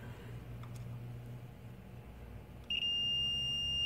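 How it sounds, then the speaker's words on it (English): After a quiet stretch of low hum, a multimeter's continuity test beep starts abruptly and continues steadily to the end, testing a Crown PW 3520-80 power jack. "Okay, beeping, so I'm going to use the card from it."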